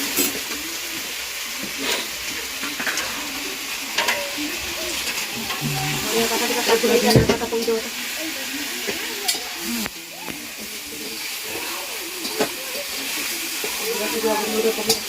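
Meat is stir-fried in a pan with a continuous hissing sizzle, broken by scraping stirs and knocks of the utensil, and background household noises come and go.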